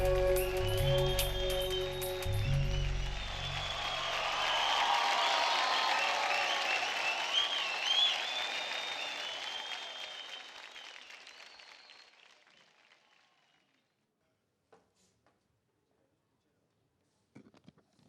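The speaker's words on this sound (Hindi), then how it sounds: "और जोरदार तालियां हो जाए इनके लिए" A studio audience on a televised dance competition gives loud, sustained applause after a dance performance. It swells, then fades gradually to near silence, and music is heard briefly at the start.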